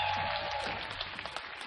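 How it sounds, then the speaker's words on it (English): Audience applause at a talent contest after a dancer finishes, a short burst of massed clapping that gradually fades over under two seconds. "Give him a big round of applause"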